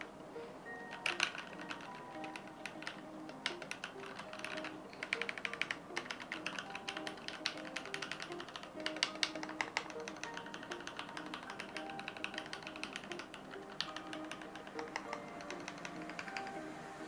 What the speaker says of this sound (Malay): itu adalah bunyi daripada keyboard Keychron K8 Gateron red switch.